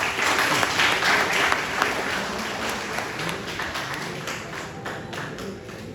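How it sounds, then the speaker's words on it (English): An audience claps at a college orientation day, a steady patter of many hands from a moderately sized crowd, fairly even throughout before easing slightly toward the end. "A clap for all these. Clap."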